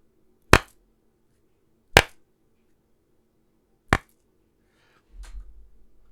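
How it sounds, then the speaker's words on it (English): Three sharp, isolated hand claps spaced a second or two apart in a quiet room, followed by a soft low rumble. "I'm going to clap my hands"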